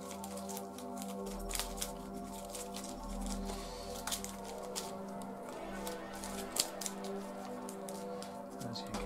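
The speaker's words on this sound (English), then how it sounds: "So let's just shuffle that up." A deck of game cards for Arkham Horror: The Card Game being shuffled, with quick, crisp riffling clicks and flutters over soft, steady background music.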